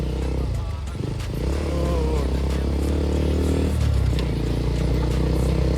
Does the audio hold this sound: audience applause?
no